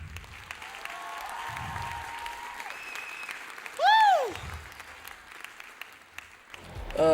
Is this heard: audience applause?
yes